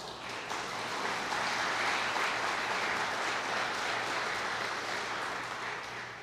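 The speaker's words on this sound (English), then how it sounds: "These ones you can clap each time." Steady audience applause at a Riverside County senior legacy awards ceremony, honoring an award recipient; dense, continuous clapping from a seated crowd that holds evenly for the whole stretch, with no talk over it.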